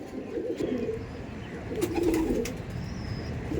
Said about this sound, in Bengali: এইগুলো লোকাল ম্যাড্রাসি পায়রা আমাদের কলকাতার ম্যাড্রাসি পায়রা